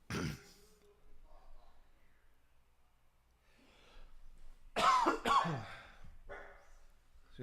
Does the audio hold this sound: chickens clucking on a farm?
no